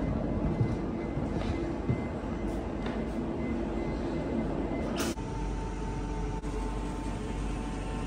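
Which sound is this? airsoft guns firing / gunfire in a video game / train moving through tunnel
train moving through tunnel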